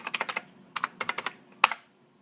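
Typing on a Unicomp Classic 104 USB Model M buckling-spring keyboard while entering a password: a close, clacky burst of about fourteen sharp keystrokes in quick uneven groups, ending in a louder final key press, with no talk.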